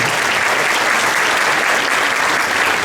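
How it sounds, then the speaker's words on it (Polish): Loud, steady applause from a gala audience in Olsztyn, dense continuous clapping from a large crowd throughout, with no pauses. "tak, no pewnie, że brawa, jasne."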